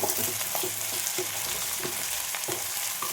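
Three green chillies sizzle and crackle in hot oil for a jackfruit seed curry, a steady close frying hiss with a few brief stirring knocks and pops, no voices.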